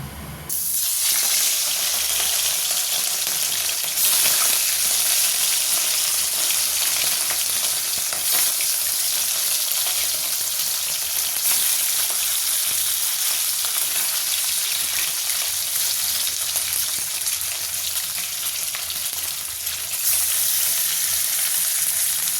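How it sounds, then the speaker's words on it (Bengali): Loud, steady sizzling of fish frying in hot oil, a constant bright crackle and hiss that continues without a break. "এবার একে একে সব মাছগুলোকে আমি ভেজে নেব।"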